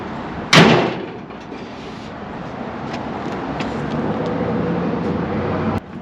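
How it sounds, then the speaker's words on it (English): A 1955 Chevy Nomad gasser engine catches with a sharp burst, runs with a rough, steady roar for about five seconds, then cuts out abruptly. "Fired up nice. And died."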